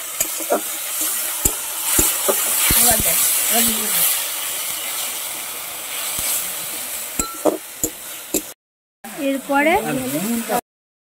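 Ginger garlic paste sizzles in a little oil with a splash of water, a loud, steady frying hiss broken by spoon scrapes and clinks, then a brief pause and a voice speaking over the sizzle.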